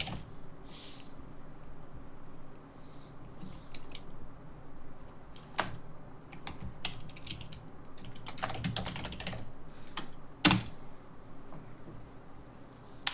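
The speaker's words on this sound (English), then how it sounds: "still typing away" Someone types on a computer keyboard, with scattered keystrokes and sharper clacks breaking over a low steady background hum, irregular and close.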